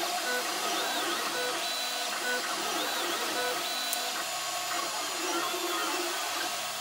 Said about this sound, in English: I'm going to print it on a 3D printer